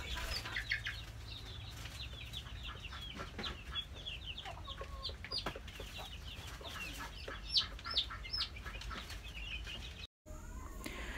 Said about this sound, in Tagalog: Heto na yung mga sisiw, bale 8 silang lahat.